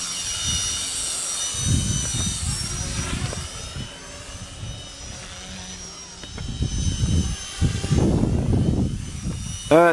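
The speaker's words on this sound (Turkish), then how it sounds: "Helikopter ve uçak aynı karede." A helicopter and an airplane drone steadily overhead, a rotor-like thrum mixing with a jet's whine, swelling louder near the end as the craft pass close.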